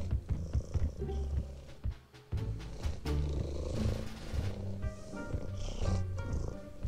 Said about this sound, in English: he's purring quite loudly.